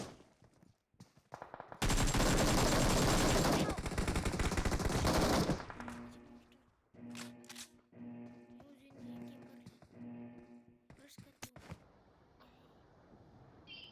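Automatic gunfire from the mobile battle royale game BGMI rattles in a dense burst lasting a few seconds, followed by quieter game sounds, scattered shots and some talking.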